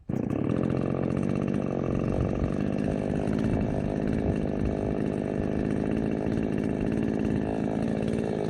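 A cheap MTM chainsaw with electric start fires up almost instantly and then runs at a loud, steady buzzing idle close by for several seconds, with no talking over it.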